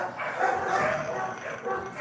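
Dogs outdoors bark and yip excitedly in a noisy, continuous flurry, blended with a voice speaking over them.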